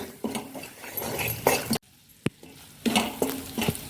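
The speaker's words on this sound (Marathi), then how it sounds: "सर्व जिन्नस एकजीव करून घेऊया।" Spices, asafoetida, garam masala, chilies and peas are stirred together in a pan for matar kachori filling, a run of close scraping and clinking utensil strokes, then a short silence with one sharp tap before the stirring resumes.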